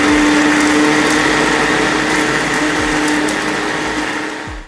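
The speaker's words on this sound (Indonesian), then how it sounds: "Langsung aja kita blender." Kitchen blender grinding chilies with water for a rendang spice paste, a loud steady whirring roar that runs for several seconds before winding down at the end.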